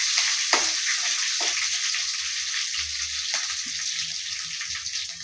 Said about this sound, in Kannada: ಸಾಸಿವೆ ಹಾಕಿದ್ದೀನಿ ಈ ಜೀರಿಗೆ ಹಾಕ್ತಿದ್ದೀನಿ ಕರ್ಬೇವಿನ ಸೊಪ್ಪು ಮೆಣಸಿನ್ಕಾಯಿ ಚಿಕ್ಕ ಚಿಕ್ಕದಾಗಿ ಹೆಚ್ಕೊಂಡಿದ್ದೀನಿ